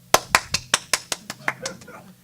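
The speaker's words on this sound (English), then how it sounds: "I clap hand" A single person claps hands about ten times in a quick, even rhythm, sharp and close, with a short reverberant tail after each clap.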